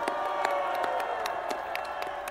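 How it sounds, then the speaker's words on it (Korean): An outdoor crowd gathered before the Constitutional Court in Seoul claps and cheers to welcome two guests, steady applause with scattered whoops, fairly close and continuous. "여러분 두 분을 뜨거운 박수로 환영해 주십시오"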